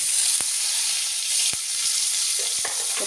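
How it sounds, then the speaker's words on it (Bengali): Ground coconut paste sizzling in hot oil over a low flame for a prawn dish, giving a constant close hiss with a few sharp crackles and pops, and no voices. "এই নারকোল বাটাটা এর মধ্যে দিয়ে দেবো"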